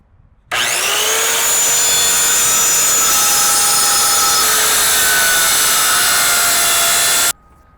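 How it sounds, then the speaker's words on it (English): A circular skill saw cuts through a wooden butcher block countertop in one continuous, loud, steady run of about seven seconds, starting and stopping abruptly, with no talking. "I first attempted to cut a straight line with a skill saw, which didn't turn out right."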